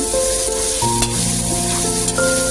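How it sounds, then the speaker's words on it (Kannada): Carrot, beans and capsicum fry together for veg pulao, giving a steady close sizzle with occasional stirring scrapes, while a sustained melodic tone runs underneath throughout. "ಎಲ್ಲನೂ ಚೆನ್ನಾಗಿ ಫ್ರೈ ಮಾಡ್ಕೋಬೇಕು 2 ಮಿನಿಟ್ಸು"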